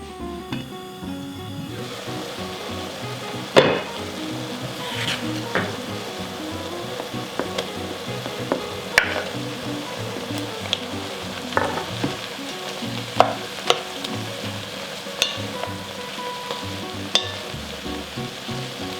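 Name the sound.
onions and leeks cooking slowly in a pan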